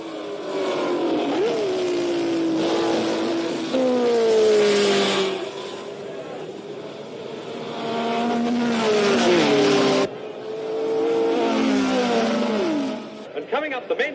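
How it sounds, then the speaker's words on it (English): Ferrari race cars screaming past on a circuit's main straight in 1960s Grand Prix racing, with high engine whines that rise and fall with Doppler sweeps as cars pass close by, one after another, under commentator talk. "Coming up the main straight now is number 4, Jean-Pierre Sarti's Ferrari in 14th place"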